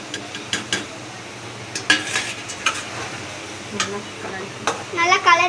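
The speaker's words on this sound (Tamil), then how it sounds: "நல்லா மசாலாலாம் கலரிட்டோம்" Masala being stirred into a fish curry in a pan, with repeated scrapes and clinks of the spoon against the metal and a soft sizzle beneath, while a person talks over it.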